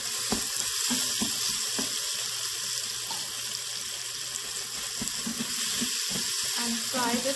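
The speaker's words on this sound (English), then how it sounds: "And fry this masala for next couple of minutes." Ginger garlic paste and masala fry in a pan for a paya trotter curry, giving a steady close sizzle with light stirring and clinks throughout, no talk.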